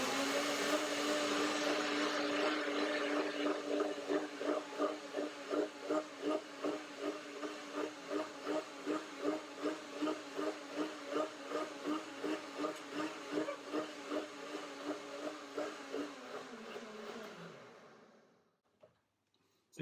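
Kitchen blender blending pears, chocolate, walnuts and soft persimmon, a steady loud whirring motor with a rhythmic pulsing churn for about seventeen seconds before winding down and stopping.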